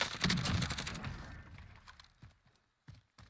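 A rapid burst of gunfire in the battle royale game Warzone rattles loudly, then fades into scattered, quieter single shots and short pops with long gaps between them.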